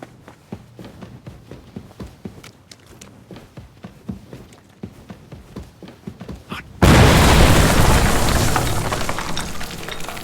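A sudden, loud explosion in Kingdom Come Deliverance II bursts in after a stretch of footsteps and shuffling, then settles into a long, roaring rumble that slowly fades.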